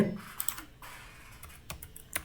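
Typing on a computer keyboard, a quick run of light clicky keystrokes in irregular bursts, fairly close and quiet in a calm room.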